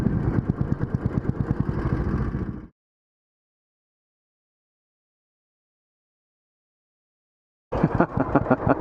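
A Royal Enfield motorcycle engine running close by, a steady dense rumble that cuts out abruptly after about two and a half seconds, leaves a long silence, then returns near the end.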